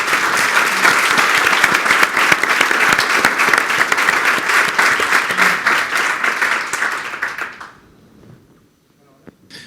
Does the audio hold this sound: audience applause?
yes